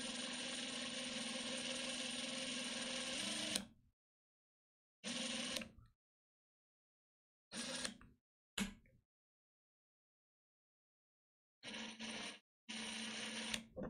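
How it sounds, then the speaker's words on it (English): Small drill running an extractor bit into a stripped screw on a camera lens, a long whirring burst followed by several short stop-start bursts separated by silence, close and fairly faint. "I think I have to drill more."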